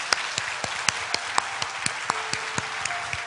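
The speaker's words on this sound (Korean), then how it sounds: "하나님께 영광의 박수 올립시다." A church congregation at a Sunday service claps in a fairly steady rhythm, with sharp individual claps standing out over a soft room background.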